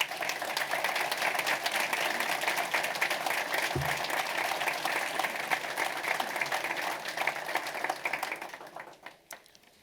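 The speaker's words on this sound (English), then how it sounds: "Another round of applause for the mayor" Warm applause from the audience at a city's State of the City address for the mayor, a full room of clapping that holds steady for several seconds, then thins out and fades near the end.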